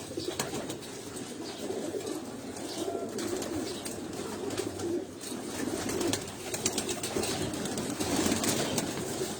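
Breeder pigeons on a rooftop coo in a thick, continuous chorus close at hand, with occasional brief rustles that may be wingbeats mixed into the steady murmur; no one speaks.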